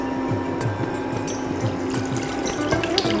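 One litre of milk is poured slowly into a pan, making a continuous close liquid stream with a light, rhythmic gurgling and splashing throughout.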